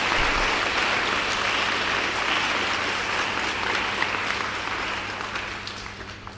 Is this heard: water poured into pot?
no